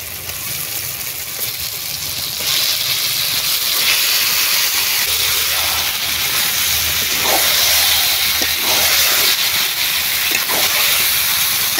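Desi chicken dropped into hot oil and cooked spices in a pan, bursting into a loud, steady hissing sizzle that swells after a moment and carries on with scattered pops and spoon scrapes, no talk.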